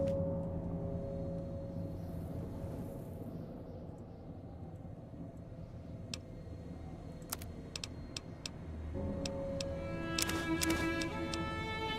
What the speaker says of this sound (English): That is the sound of a radio somewhere right over there.